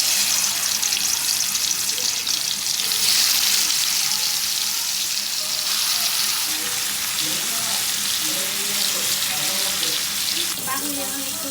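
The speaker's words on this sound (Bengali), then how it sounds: "মাছটা ভেজে রান্না করবো" Snakehead fish frying in a pan indoors, a loud continuous sizzle close by that stays steady throughout, with faint stirring sounds near the end.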